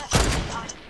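Gunfire from an SMG in Fortnite Battle Royale, heard as a short, loud burst of rapid shots that fades into a ringing tail within about a second.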